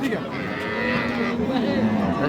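A Sahiwal cow mooing at Ambari cattle market in Dinajpur, a drawn-out low call that holds steady for about two seconds, close and loud over a murmur of the crowd.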